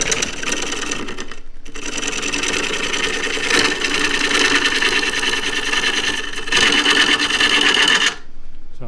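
A wood lathe spins a natural edge tripod bowl with a fast, rattling mechanical whir that drops out briefly twice before stopping near the end.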